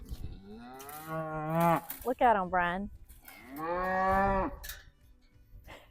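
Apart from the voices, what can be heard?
cattle mooing in a corral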